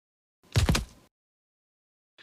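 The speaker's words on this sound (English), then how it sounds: "we need a body fall, concrete" A single heavy body fall onto concrete for a pixel-style fight game, one dull close thump with a short crunchy tail, followed by silence and a faint brief click at the end.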